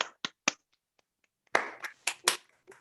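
Scattered claps from a few online meeting participants, unmuting one by one: three sharp isolated claps, a short pause, then a denser cluster of claps, thin and close-miked with no talk.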